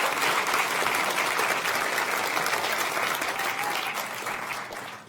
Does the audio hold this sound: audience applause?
yes